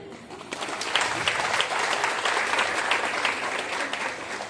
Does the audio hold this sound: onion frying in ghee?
no